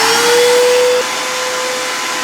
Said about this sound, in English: And I got my shop vac hooked up.